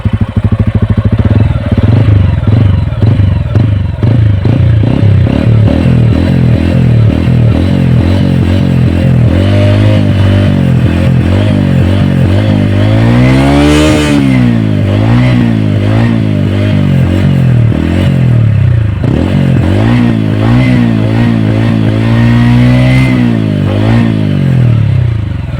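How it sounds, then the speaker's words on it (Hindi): A TVS Ronin 225cc motorcycle revving, its exhaust loud and close with a throbbing idle that climbs through repeated rising and falling throttle blips, peaking sharply midway, no talk over it. "इसका जो आवाज़ है एग्जॉस्ट का बहुत ज़बरदस्त है"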